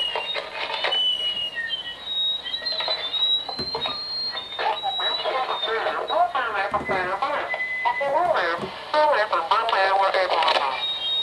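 A Radio Shack scanner tuned to a cordless phone frequency gives out garbled, radio-filtered speech with chirps and warbling tones, crackling and fluctuating throughout at moderate loudness.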